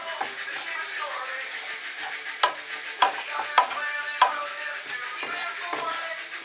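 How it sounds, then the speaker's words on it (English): Soft onions and garlic sizzle in a pan for a minced-beef pie, with a steady moderate crackle broken by several sharp scraping knocks as the mixture is stirred. "add your garlic and give this a good stir and fry for another 2 minutes"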